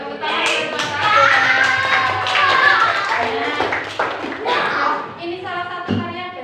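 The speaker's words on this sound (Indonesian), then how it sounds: "Yuk, tepuk tangan buat Mas Akbar." A class of primary school students claps in short, uneven bursts, with the rhythmic patter of hands mixed with children's voices and chatter near a classroom.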